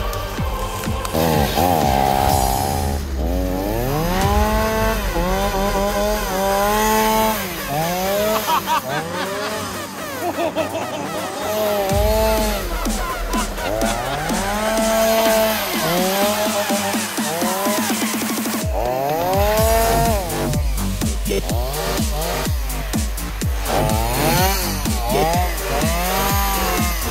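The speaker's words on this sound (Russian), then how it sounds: "А если пила прям в руках, ну вы видели сами, можно прям на ходу спиливать." A chainsaw cuts small trees from a rail draisine moving through an exclusion zone. The engine runs loud and steady throughout, revving and dipping again and again as each trunk is cut.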